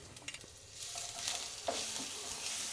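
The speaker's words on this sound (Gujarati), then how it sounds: "તો વઘારમાં ઉમેરેલી બધી જ સામગ્રી એકદમ સારી રીતે કકડી ગઈ છે" Ginger, chili and garlic paste crackling in a hot tempering with curry leaves, a loud continuous sizzle with scattered spits and a few stirring scrapes, no talking.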